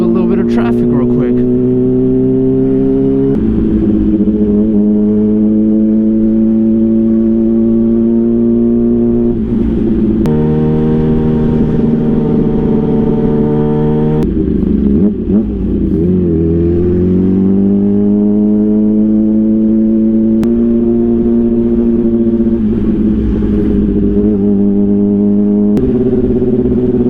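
Steady road traffic noise heard while riding through San Francisco, a continuous loud engine and road rumble with shifting tones as vehicles accelerate and pass, no talking.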